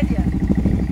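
Off-road motorcycle engine starting up and idling, a rapid low pulsing thump, close and loud over one short second.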